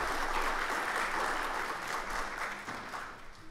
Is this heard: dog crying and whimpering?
no